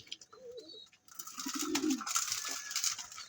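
A pigeon in a fancier's loft gives a soft, low coo near the middle of the stretch, close by, with a brief faint tone earlier and steady high background hiss around it.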